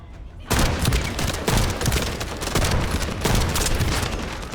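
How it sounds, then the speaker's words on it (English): Loud, close sniper rifle fire in the video game The First Descendant, bursting in after a brief quiet start and continuing as dense, heavy shots with booming echoes to the end. "Let's try our sniper rifle."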